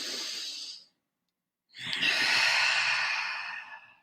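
Slow, deep breaths taken while sitting quietly in meditation: a long exhale that fades, a short pause of silence, then a fuller, louder inhale-exhale rush of air, close and unaccompanied.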